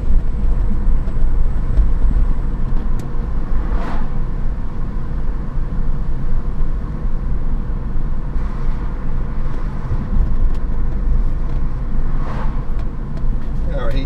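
A BMW E36 converted to electric power accelerates, heard from inside as a steady, loud road and cabin rumble with faint higher whine that holds evenly throughout.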